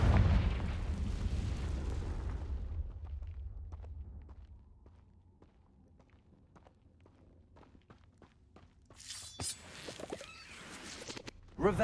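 A Confringo spell explosion in Hogwarts Legacy opens with a loud booming blast that decays over about two seconds, followed by quiet footsteps and small clicks, then a burst of sharper crackling near the end.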